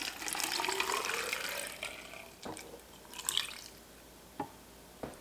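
Water is poured from a container over cucumbers in a jar for a saltwater pickling brine: a steady splashing pour that tapers off, followed by a few separate drips and small splashes.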